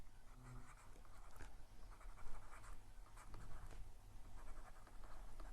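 Chalk or marker scratching steadily across a board during a physics lecture on quantum mechanics, a continuous close scraping with short strokes over room hum, no talking.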